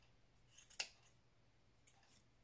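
Scissors snip yarn to trim the ends of a handmade yarn doll's legs even, a quick cluster of close, crisp cuts followed by one fainter snip after a pause.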